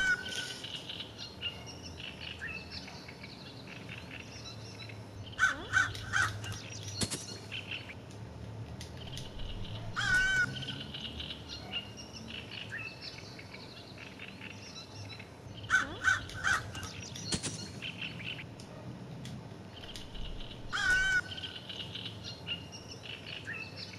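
Crows cawing in the background of the Hello Neighbor video game, sounding as sparse paired caws at several-second intervals over a steady ambient hum.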